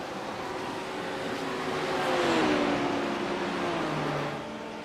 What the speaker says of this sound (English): Here they come down the Wellington straight now.